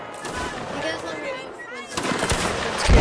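Musket fire from a Napoleonic Wars line-battle video game crackles in scattered and then denser volleys, rising louder toward the end, with players' voices talking over the shots.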